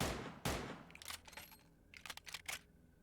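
A handful of sharp pistol shots crack in a video game, one heavy report near the start followed by several quicker, fainter bursts, at a slow rate and with no talk.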